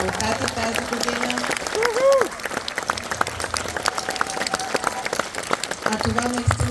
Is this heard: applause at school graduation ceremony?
yes